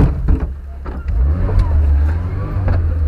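A car engine revs and pulls hard under load off-road near Velingrad, a loud close low roar that surges after a brief dip and holds steady, with a few faint voices underneath.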